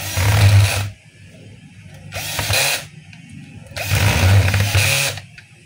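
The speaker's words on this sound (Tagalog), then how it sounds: "Syempre higpitan na natin yung screw." A screw being tightened during reassembly of a DeWalt D25032 rotary hammer, heard as three separate bursts of buzzing, whirring power-tool driving, each lasting about a second, with short quiet gaps between them, close and fairly loud.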